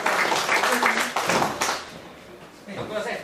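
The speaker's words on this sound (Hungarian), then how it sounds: "egyébként tapsot szeretnék neki kérni" Brief round of clapping from an audience at a computer scene convention presentation, honoring a software developer; a dense patter that swells, thins out midway, then returns with some voices mixed in.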